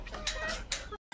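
Desi chickens on a small duck and chicken farm cluck in a few short bursts close by, with a brief silent gap near the end.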